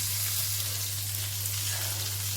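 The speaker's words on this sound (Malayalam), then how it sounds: "നമ്മൾ അരിഞ്ഞു വെച്ച ഉള്ളിയും വെളുത്തുള്ളിയും നമുക്ക് ഒരു പാനിലേക്ക് ഇടാം." Chopped onion and garlic frying in a pan give a constant, loud, even sizzle with a faint low electrical hum beneath it; no voices.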